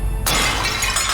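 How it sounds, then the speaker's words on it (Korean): Ceramic pottery is dropped indoors in a house and hits the floor in one sudden, sharp crash that breaks into bright shattering, followed by scattering fragments and a second burst of debris near the end. "선우가 일부러 도자기를 떨어뜨리는데요"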